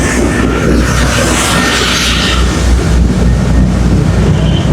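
A ship reversing at sea churns up a strong spray of water at the stern, heard as a loud, constant rushing wash mixed with deep engine rumble and wind buffeting the microphone, with no voices.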